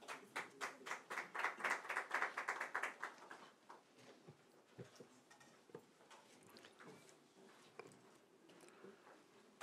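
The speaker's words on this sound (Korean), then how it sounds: "큰 박수 부탁드리겠습니다" Audience clapping at a Democratic Party convention gathering, a burst of rhythmic, fairly close hand claps that peaks early and then fades into scattered claps and room noise.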